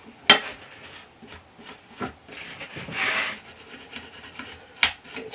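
Grease being rubbed and wiped off the thread of a MAXI-1-M33 tool rest, a soft scrubbing rasp with a longer swell of wiping in the middle and a couple of sharp clicks or knocks, close and fairly quiet.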